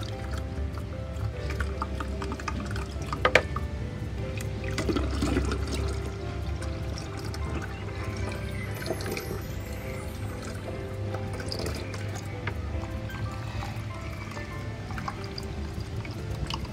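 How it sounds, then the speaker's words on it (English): Soursop juice is strained, giving soft, close trickling, pouring and dripping of liquid with small clinks against a steady low background hum. "I'm just straining the soursop for the soursop juice"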